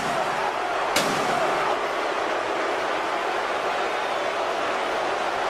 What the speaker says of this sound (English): And now slamming his face into the steps.